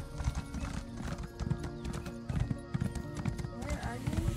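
Rhythmic hoofbeats of a galloping horse in the video game The Elder Scrolls Online clatter steadily, with voices talking over them and a brief whinny mixed in.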